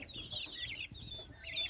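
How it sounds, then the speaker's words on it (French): A bantam chocolate Orpington hen clucks and chirps in quick, soft, high calls, close by and fairly quiet, with no talking. "Là, c'est ma poule Orpington naine chocolat."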